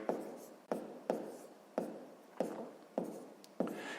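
Pen or pencil scratching on paper while a math step is written out by hand, seven quick strokes in a steady rhythm, close and quiet.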